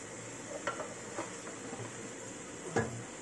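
Ground pork browns in a pan with a soft, steady sizzle, broken by a few sharp metallic clinks and scrapes of a utensil stirring against the cookware.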